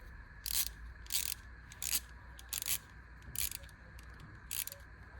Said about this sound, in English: I know y'all want to see how this ratchet works.